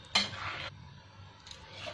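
Milk and sugar stirred in a pan for homemade kalakand: a utensil scrapes against the metal in two short bursts, the first louder and longer, with a quiet pause between them.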